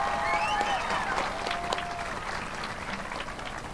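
A graduation audience at the Milton High School 2019 commencement gives sustained applause for faculty and staff, a steady dense wash of clapping that tapers off slightly, with faint voices mixed in.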